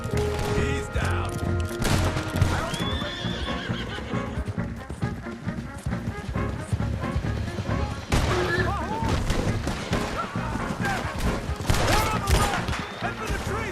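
Sustained gunfire in Red Dead Redemption 2, dense overlapping shots throughout, mixed with horses, clattering hooves and shouting voices in a chaotic battle.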